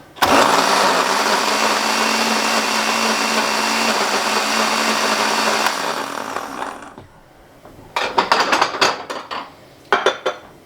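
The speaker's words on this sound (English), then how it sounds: "So we got the blender all loaded up." A blender roars steadily for several seconds pureeing pasta sauce, then winds down, followed by clattering of dishes and utensils.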